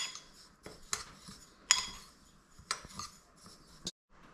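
Roasted cumin and two other kinds of seeds being mixed in a bowl, a short run of close, quiet clinks and rattles of a spoon against the bowl, separated by brief pauses.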